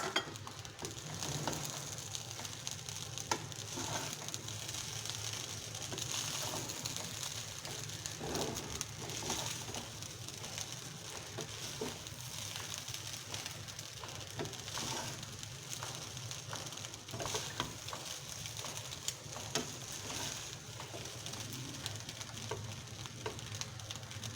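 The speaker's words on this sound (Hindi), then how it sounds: "अब डाल देंगे हम लोग इसमें अंडे। इसको करेंगे मिक्स।" Eggs are stirred into chicken fried rice in a hot pan, giving a steady, continuous sizzle with scattered scraping and stirring clicks throughout.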